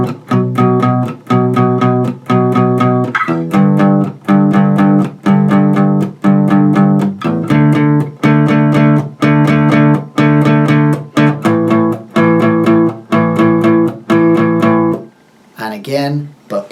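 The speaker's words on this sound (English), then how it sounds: "firstly is the power chords, should sound something like this" Guitar strumming power chords in the chord progression of Ed Sheeran's song 'Shivers', steady rhythmic strums with short muted gaps, loud and close, ending with a brief scrape.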